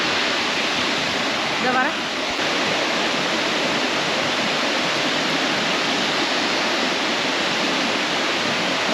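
A tall waterfall in Switzerland, about 1,300 feet high, pours in a constant heavy roar heard up close from behind the falling water, with a brief voice showing through the rushing noise.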